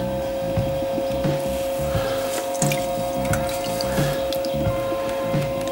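Water poured out of a freshly thrown small lidded pottery jar on a wheel, a steady splashing trickle that runs continuously throughout with a faint drip-like patter.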